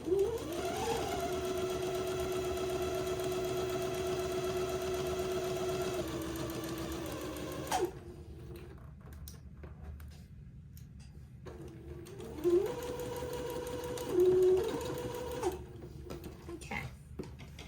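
A sewing machine stitches plaid fabric for button-on bloomers with pins being removed along the way, running in a steady whirring hum for several seconds, pausing, then running again more briefly.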